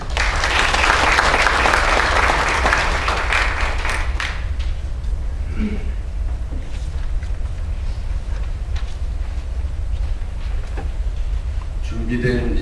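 Audience applause greets the Korean Confederation of Trade Unions chairman at a labor-law reform forum, dense and loud for about four seconds, then thinning into scattered claps and room noise.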